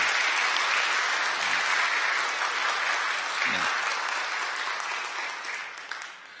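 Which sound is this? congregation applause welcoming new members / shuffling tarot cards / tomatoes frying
congregation applause welcoming new members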